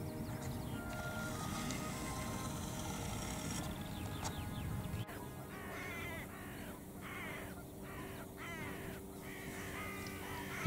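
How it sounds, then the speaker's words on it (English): A flock of crows caws and dive-bombs decoys over sheep and lamb pasture: repeated harsh, overlapping calls at close to middle distance, steady and insistent, with no talking. "You can tell now by the noise that these crows don't like them decoys."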